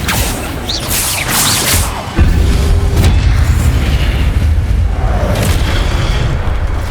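Spell blasts in the Hogwarts Legacy video game, loud booming impacts and bursts followed by a sustained heavy low rumble, with no talk.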